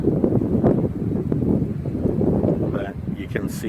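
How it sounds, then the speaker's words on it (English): Strong wind at Lake Sutherland buffets the microphone with a loud, continuous low rumble, and a voice briefly sounds through near the end. "And kind of windy."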